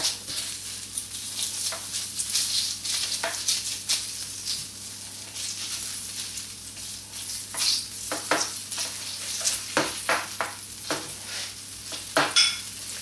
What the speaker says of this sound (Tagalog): Pag mainit na yung pan, lagay natin yung margarine.